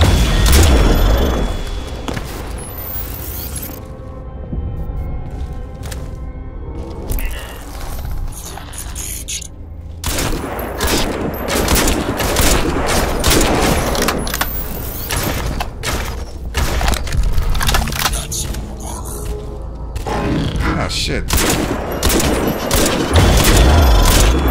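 Crysis 2 Remastered gunfire: dense, loud automatic volleys and booming shots, with mechanical weapon clatter, continuing through most of the stretch with a brief lull in the middle.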